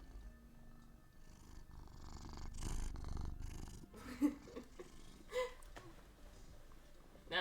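A pet cat purring close by while being held, a soft continuous rumble broken by a few louder snuffles and breaths, fairly quiet overall.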